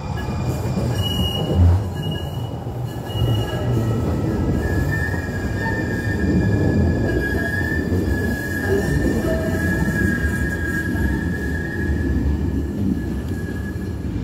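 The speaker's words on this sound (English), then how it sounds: "Yeah, that was the light rails going past, you know, here in the city." A light rail train passes through the city, a steady loud rumble of wheels on track with a long high metallic squeal of wheels running across most of the pass, no talk.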